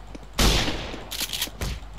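Gunfire in the Roblox game Jim's Computer 2: a loud burst of shots rings out, followed by a few more rapid cracks, with no talking.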